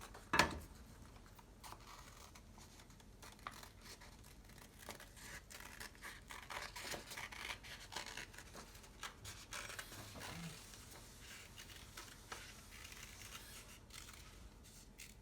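Scissors snip through two layers of paper to cut out a circle for an animal mask: a sharp crisp snip at the start, then a long run of faint, irregular cutting clicks and rustles close by, with no talking.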